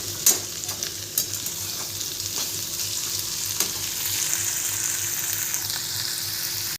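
Tomato with red chilli powder and turmeric fries in a pan for a dry bitter gourd dish, giving a continuous hiss and crackle broken by a few sharp scrapes of stirring, no talking.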